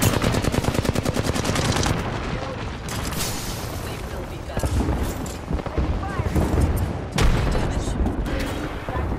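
Heavy automatic gunfire in a shooter game, continuous rattling bursts with booming impacts, close and loud, with brief lulls and game voices talking underneath.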